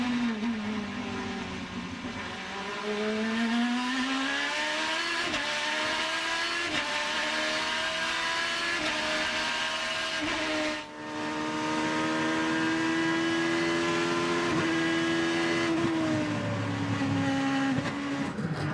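IndyCar race cars scream through a right-hand corner, hitting the curb at the 2010 Grand Prix of Alabama in Birmingham. Engine notes whine and rise and fall steadily, one car after another, loud and sustained with no talking.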